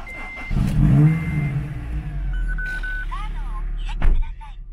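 A Honda car engine cranks and catches, then settles into a running idle up close, with a few electronic beeps and chirps around it.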